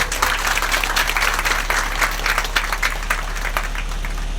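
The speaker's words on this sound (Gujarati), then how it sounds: "એકવાર એને જોરદાર તાળીઓ વધારો." Audience applause at a village gathering honouring volunteers, a dense, steady patter of many hands clapping together under a low electrical hum.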